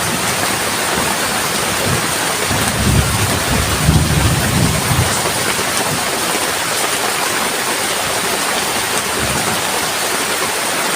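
Heavy steady rain pours throughout, with a low rumble of thunder rolling in the middle before fading back into the downpour.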